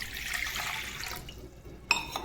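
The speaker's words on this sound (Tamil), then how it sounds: "நான் இன்றைக்கி ஒரு கப் ஃபுல்லாக தண்ணி எடுத்திருக்கேன்." Water being poured into a cup before ginger black tea is brewed, a steady splashing trickle for about a second and a half that stops, followed by a sharp clink at the end.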